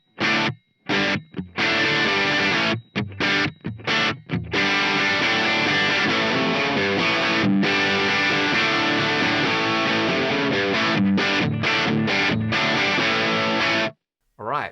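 Electric guitar played through a Mooer GE300 Lite set to a Plexi amp model on the bridge pickup: loud, crunchy distorted riffs and chords in bursts with short stops, then a sustained stretch of playing.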